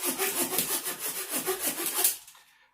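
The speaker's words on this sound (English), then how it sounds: "I'm trying to saw very, very straight in a straight line." A hand saw cuts through wood outdoors in steady back-and-forth strokes, close and fairly loud, the rasping rhythm running evenly for about two seconds before stopping abruptly.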